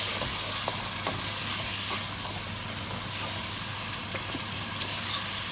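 Yogurt being stirred into cooked lamb curry for aloo gosht, a dense continuous sizzle and steamy hiss with soft spoon scrapes, loud and close, with a low hum beneath.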